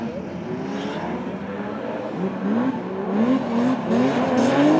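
A Toyota Corolla AE86 makes a drifting run on a tight, technical course, its engine revving up and down in repeated rising sweeps with tire squeal, heard from a moderate distance and swelling louder toward the end.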